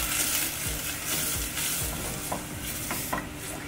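A spoon stirs finely chopped onion and a garlic clove frying in butter over medium heat, with repeated scraping strokes over a steady close sizzle.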